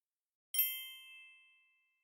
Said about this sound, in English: Speak when you hear the bell.